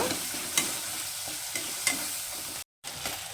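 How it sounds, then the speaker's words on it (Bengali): Chopped tomato with salt and turmeric sizzles in oil in a pan for dal while a spoon scrapes and stirs it, a close crackling hiss with scattered scraping knocks and a brief gap. "এবার আমি এই এটাকে খুব ভালো করে কষিয়ে নেবো একদম তেল বেরোনো পর্যন্ত"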